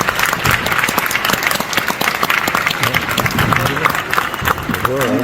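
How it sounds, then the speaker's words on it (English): Sustained applause from a large audience at a university event honoring a family of the year, steady loud clapping throughout, with cheering and crowd noise mixed in. "Please give them a round of applause."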